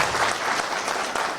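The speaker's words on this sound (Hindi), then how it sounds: "मैं चाहूँगा कि आप लोग एक जोरदार तालियों से हमारे ग्रेट अपलाइन का" Audience at a Gorakhpur network-marketing celebration applauding to welcome upline members, steady dense clapping throughout, close and moderately loud with no talk over it.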